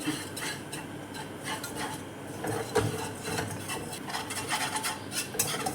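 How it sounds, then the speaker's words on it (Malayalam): Barley powder stirred in a pan over a low gas flame, a continuous scraping and rasping of a spoon against the pan with occasional sharper knocks, close and fairly loud with no talking. "ഗ്യാസിൻ്റെ തീ കുറച്ച് വെച്ചിട്ട് നല്ലപോലെ ഇളക്കി കൊടുക്കുക"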